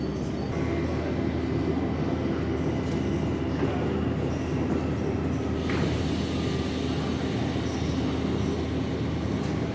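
A train at Saint-Denis station makes a loud, continuous rumble and hiss that holds steady throughout, with a sharp rise in high hissing partway through as it runs alongside the platform.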